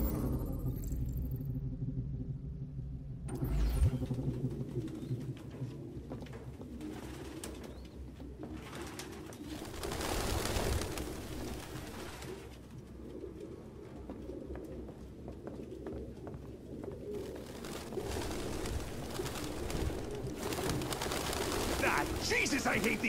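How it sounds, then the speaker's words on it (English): Pigeons cooing in a Detroit: Become Human game scene, soft repeated low coos scattered among rumbling background and someone talking over parts of it. "No human could live with all these fucking pigeons."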